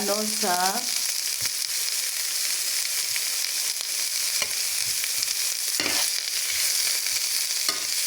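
Bacon and other ingredients sautéing in a pan, a loud steady sizzle and crackle close up, with occasional scraping stir strokes and a brief voice at the very start.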